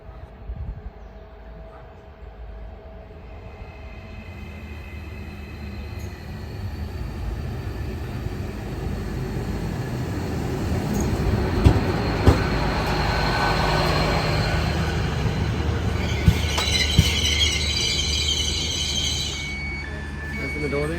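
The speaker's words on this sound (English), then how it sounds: "Train's here." A train pulls into a station in Italy on the way to Siena, a low rumble building over about twenty seconds with hissing and squealing brakes near the end, heard nearby under platform noise.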